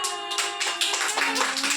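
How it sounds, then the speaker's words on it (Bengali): Children clapping their hands together in a classroom activity, a quick run of close, sharp claps that rises and falls across the short stretch. "ক্ল্যাপিং মানে হাততালি দাও"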